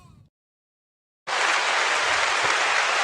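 A steady wash of audience applause welcomes Heck and King, starting abruptly after a short silence and holding loud and dense to the end, with a little sound just before the gap.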